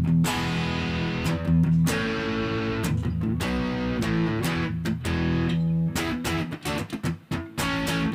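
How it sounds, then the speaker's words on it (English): Overdriven rock music from a children's sing-along plays continuously with a dense, gritty tone, loud and steady, with several short drop-outs and choppy stops near the end. "Turn off the slap echo. Turn on the overdrive."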